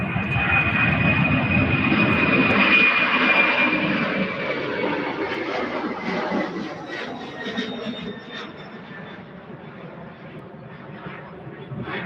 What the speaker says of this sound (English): UPS 767 out to Manchester.